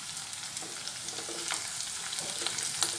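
Chilies and curry leaves fry and are stirred in a pan for a capsicum dish, a steady close sizzle with soft scraping stirs throughout and no talking.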